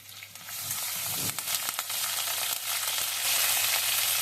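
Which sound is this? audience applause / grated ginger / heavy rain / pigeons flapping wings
grated ginger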